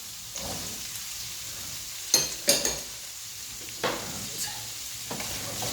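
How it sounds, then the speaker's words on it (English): Onions and carrots sizzle steadily in a hot pan while a spoon stirs them, sharp scraping clatters standing out now and then over the constant frying hiss. "Give them a stir and get them cooking"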